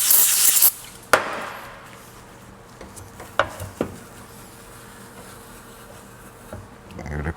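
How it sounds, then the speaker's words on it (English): Brake cleaner sprays in a short, loud hissing burst onto a Toyota engine surface, followed by a quiet workshop with a few faint knocks. "We're gonna use some brake clean."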